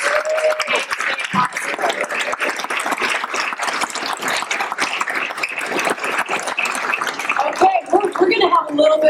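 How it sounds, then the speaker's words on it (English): A crowd claps steadily for a graduation motivation event, a dense, even patter lasting most of the stretch, with voices audible underneath. "I again want a round of applause for Pacific Power and the Herald and News and all the partners"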